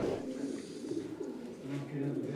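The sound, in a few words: homing pigeons cooing before release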